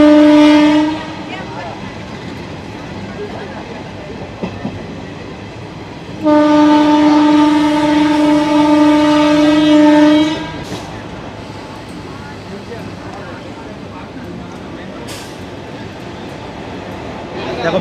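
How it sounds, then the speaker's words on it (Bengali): ICF passenger train running near 100 km/h between stations toward Bagnan, steady rolling rumble and rail noise throughout, with a loud sustained horn blast in the middle lasting several seconds; a voice talks briefly over it. "ট্রেন কিন্তু 100 ছুঁয়েছে, আর আইসিএফ এর টপ স্পিড কিন্তু 110।"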